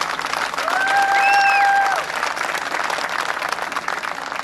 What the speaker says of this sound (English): let's give them a big round of applause for all they've done